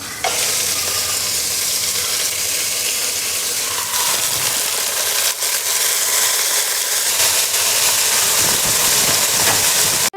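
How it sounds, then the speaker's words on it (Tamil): Mutton sautés with onions in a pan, giving a loud, continuous close sizzle and hiss with occasional stirring scrapes. "மட்டன் போட்டு நல்லா வதக்கி விட்டாச்சு"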